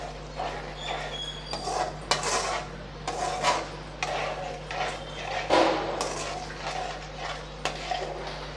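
A spoon stirs brinjal kara kuzhambu, a tamarind gravy with water and rock salt, in a cooking pot, making repeated close scraping and clinking strokes in an uneven rhythm.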